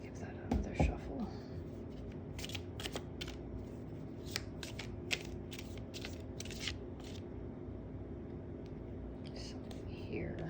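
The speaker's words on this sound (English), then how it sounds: "Let's give that another shuffle." Tarot cards are shuffled in a few soft, papery riffling bursts, quiet and close, over a low steady background hum.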